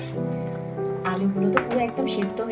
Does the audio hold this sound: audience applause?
no